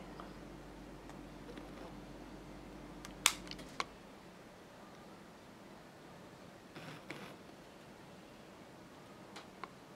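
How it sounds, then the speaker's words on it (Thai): A Pentax MG SLR film camera fires its shutter release with a sharp mechanical click, then a second fainter click shortly after. Both are crisp and close against a quiet room background, with a few softer handling ticks later. "ขึ้นฟิล์มนะครับกดถ่ายนะครับผม"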